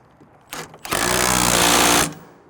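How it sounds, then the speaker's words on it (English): Impact gun tightening bolts on a door block: a short burst, a pause, then a loud sustained whirring rattle of about a second, close up. "I'm gonna reach down here and grab my impact gun"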